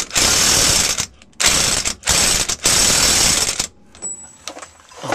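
Ratchet tightening drivetrain yoke bolts on a 1978 Dodge RV, four quick bursts of loud, close clicking separated by short pauses, followed by lighter metallic taps.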